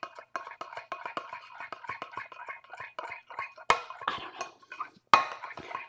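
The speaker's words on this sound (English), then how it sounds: "I'm going to give that a stir to see if that's it" A utensil stirs a sauce of mayonnaise, pepper and a little vinegar in a bowl, giving a quick run of close, light scraping and clinking strokes, with a couple of sharper knocks against the side near the end.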